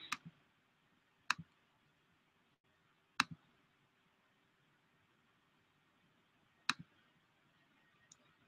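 A computer mouse button gives a few sharp, close clicks: one at the start, then single clicks spaced a second or more apart, and a faint tick at the end, all against quiet background hiss.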